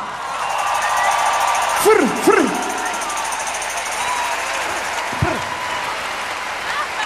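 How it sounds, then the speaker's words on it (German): A live TV studio audience applauds and cheers to welcome a guest on stage, a broad sustained roar of clapping with whoops, while a host's voice calls out over it near the start and again later. "Ich möchte, dass ihr ihn mit einem warmen Applaus begrüßt."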